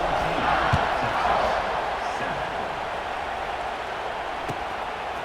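A stadium crowd in the College Football 26 video game roars at kickoff, a dense, steady wash of cheering that stays loud throughout, with occasional sharper thuds and shouts within it.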